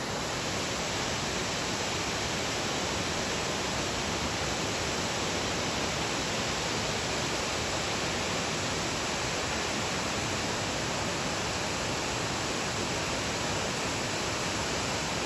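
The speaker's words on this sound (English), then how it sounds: "White Waterfalls." Whitewater Falls roars steadily along a forested hiking trail, a dense, loud, unbroken rush of falling water with no pauses or voices.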